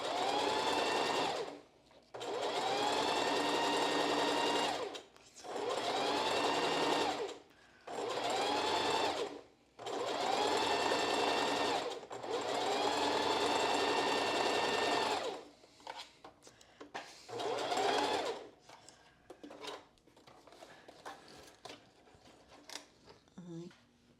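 A home sewing machine stitches elastic onto a Symmes strapless bra in about seven loud whirring runs separated by short stops, then gives way to quieter rustling and handling noises.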